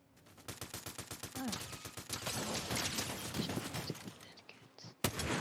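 Rapid bursts of gunfire in Fortnite, with dense volleys of shots firing in quick succession, then thinning out and ending in one sharp loud blast.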